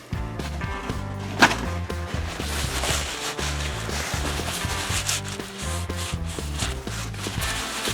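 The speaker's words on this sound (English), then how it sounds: "I'm actually going to dry it with a cloth" Cloth rubbing and wiping to dry a small metal part from a Kubota BX tractor, a busy close-up run of scuffs, rubs and light knocks, with a louder thump near the start and no talking.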